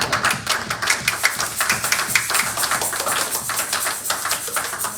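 A congregation in a church service applauding, a dense, continuous patter of many hands clapping loudly and close.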